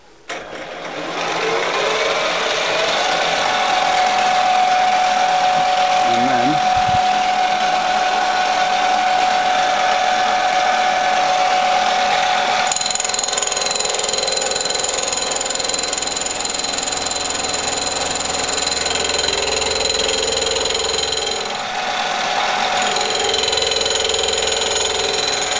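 A motor-driven cutter machines the teeth of a 60-tooth timing belt gear, giving a loud, steady whine and buzz that runs continuously with a slight change in tone partway through.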